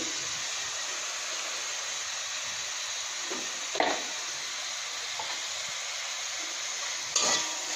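Green chili paste with onion and garlic paste fries in a pan, giving a steady, bright sizzling hiss, broken twice by brief louder scrapes of stirring.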